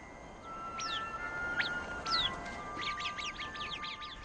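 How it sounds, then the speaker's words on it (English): Arabian birds calling in a hot, dry desert setting, with sharp rising and falling whistled chirps that come singly at first, then in a quick repeated cluster, over a steady background hiss. "This little creature, known as the Arabian bird, manages to survive in this difficult environment."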